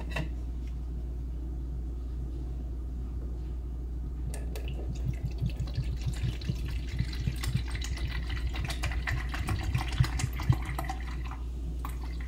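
Two cups of vinegar are poured into a measuring cup, giving a steady liquid trickle and splash over a constant low hum.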